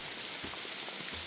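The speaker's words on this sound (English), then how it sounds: "Okay, got a little rain. Not sure if you can tell." Light rain falls on the Appalachian Trail as a steady, even hiss with soft scattered patters of drops, continuous and moderately quiet.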